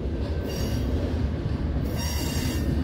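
A long freight train with a mid-train DPU locomotive rolls past at Hobson Yard in Lincoln, Nebraska, a loud steady rumble of wheels with high metallic squealing from the cars, close and continuous.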